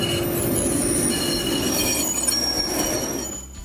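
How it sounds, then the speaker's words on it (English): A tram train rolls along rails with a continuous heavy rumble and high wheel squeal, close and loud, before the noise fades away at the end. "Tram train."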